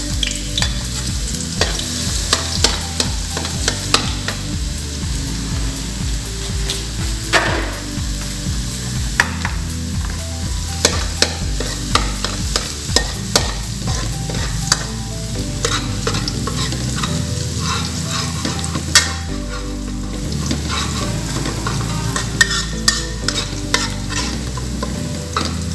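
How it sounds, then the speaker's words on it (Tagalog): Garlic fries in hot oil for homemade spaghetti sauce, a loud, steady close sizzle with constant crackling and repeated scraping and stirring noises throughout, with no talking. "Mainit na po yung oil. Ilagay po natin ang garlic."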